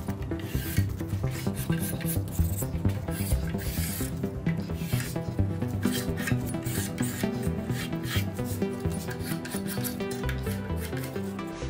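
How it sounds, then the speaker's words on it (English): A wide putty knife scrapes a glue-and-fine-sawdust filler into an acute corner of a pallet-wood door, a continuous, busy rasping and rubbing at close range with uneven strokes and no speech. "I can easily scrape one face and then the other"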